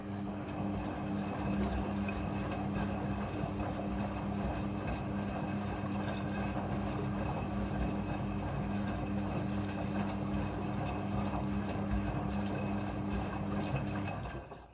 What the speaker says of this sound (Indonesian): Pada proses pembilasan dengan air, mesin cuci akan mengatur jumlah kebutuhan air secara otomatis.